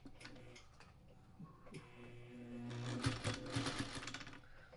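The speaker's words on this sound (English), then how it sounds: "And I'm going to sew it." A sewing machine stitches a quilt carrier with a steady mechanical whir that runs continuously and grows louder and busier in the second half, close up with no talking.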